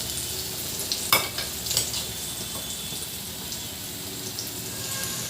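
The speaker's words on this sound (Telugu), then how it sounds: "పోపు వేగిందండి. ఇప్పుడు పచ్చడి యాడ్ చేసుకోవాలి." Raw mango roti pachadi (chutney) stirred into a sizzling oil tempering with crushed garlic, giving a steady close frying hiss with a few scraping stir strokes near the start.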